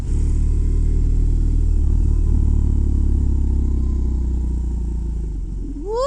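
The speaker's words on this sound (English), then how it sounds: "being able to hear the back cackle from the exhaust is gratifying" A motorcycle rides along with a loud, steady engine rumble and exhaust drone close to the listener, easing off near the end as the exhaust begins to crackle. No one talks.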